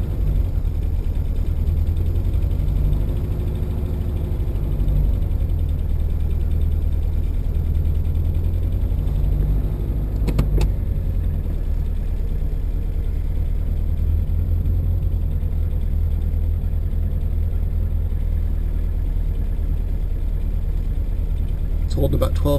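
A Horizon car engine idles after a cold start with no throttle, around 1,000 to 1,500 rpm, a steady, loud, low mechanical drone that holds evenly throughout.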